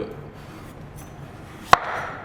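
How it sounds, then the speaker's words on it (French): A knife cuts a butternut squash in half, heard as a single sharp, close chop against the board after a quiet stretch, followed by a brief softer rustle. "Ensuite, on va trancher le butternut donc, au milieu"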